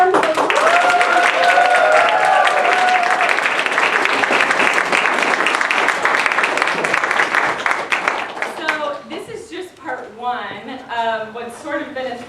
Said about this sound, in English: our first and second graders need another round of applause